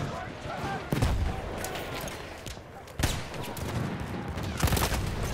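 Gunfire in a Battlefield 1 multiplayer match, with several sharp close shotgun-like blasts at irregular intervals over a rattling background of distant shooting and battle noise.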